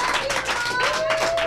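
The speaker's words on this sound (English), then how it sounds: "Can I hear an applause if we want to see that?" A live audience applauding at a Street Fighter 4 stream event, steady crowd clapping throughout with faint tonal sounds running beneath.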